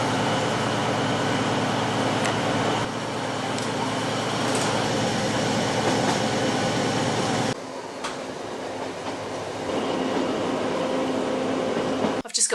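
A train travels toward Cardiff Bay in Wales, its steady broadband rumble and hiss filling the cabin with faint clicks and rattles, dipping briefly partway through before the running noise resumes, heard from inside the carriage with no talk.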